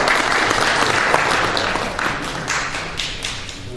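A conference audience at an international fire investigation meeting claps after a research presentation. A short burst of close, dense applause fades slightly by the end.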